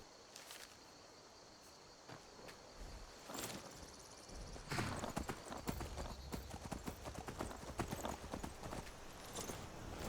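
Horse hooves clip-clop at a walking pace in the video game Skyrim, faint at first and growing steadier, over a quiet background of chirping insects.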